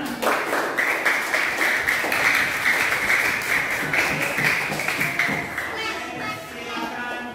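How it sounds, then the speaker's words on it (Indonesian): Fifth-grade pupils in a primary school science class clap together, a fairly rhythmic, slightly patterned clapping that runs for several seconds before trailing into shuffling and a faint voice. "tepuk tangan untuk kita semuanya"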